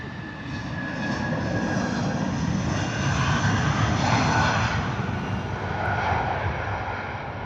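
A Eurowings Airbus A319 jet takes off at Heathrow, its engines giving a broad, steady roar that swells slightly in the middle and holds at a moderate distance, with no voices.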